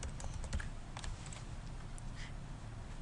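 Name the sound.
typing on a computer keyboard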